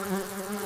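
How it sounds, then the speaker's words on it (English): A cartoon bee gives a continuous, fairly loud droning buzz with a wavering pitch that fills the whole brief moment, with no other sound. "A talking bee!"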